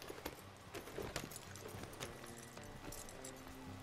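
Steady clip-clop of hooves plods along at a slow, even pace amid a dense background of ambient noise, a horse in the video game Red Dead Redemption 2.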